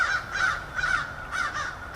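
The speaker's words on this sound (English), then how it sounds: "there's a bunch of crows going off" Several crows caw in repeated harsh bursts, fairly close and loud, with a steady outdoor background between calls.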